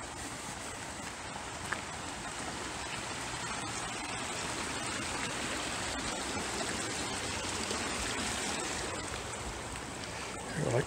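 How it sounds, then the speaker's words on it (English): A small creek at the High Desert Museum, a soft, steady trickling wash of running water heard faintly and continuously, with a light knock near the end. "I like this little creek here."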